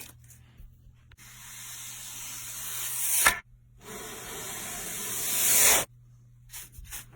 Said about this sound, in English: Brush, brush. Compressor. Down with fluff.